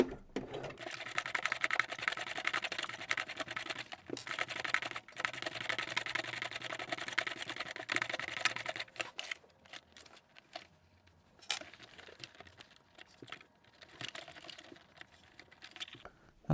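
Sewing machine stitching through many layers of a denim workwear jacket, turned slowly by the hand wheel, gives a steady close mechanical chatter that thins and becomes more intermittent toward the end.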